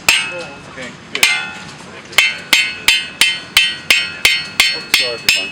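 Sharp, loud hammer blows strike hot steel to forge weld a Damascus faced anvil, a few irregular hits followed by a steady, rapid series of ringing strikes, up close, with brief talk early on.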